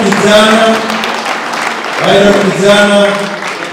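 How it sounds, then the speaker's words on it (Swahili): A church congregation at Nyamataro PAG in Kisii, Kenya claps during an awards ceremony. Steady applause runs throughout, with loud voices calling out over it and a second swell of clapping near the end. "Pige makofi sana."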